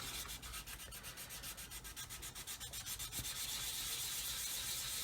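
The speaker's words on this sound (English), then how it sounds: "I'm not putting any pressure on, I'm just letting the sanding stick do the work as usual" Steady wet sanding of a plastic 1/144 C-141B Starlifter model kit with a 600 grit sanding stick, light pressure, giving a continuous close rhythmic rubbing that runs through the whole stretch with no talk.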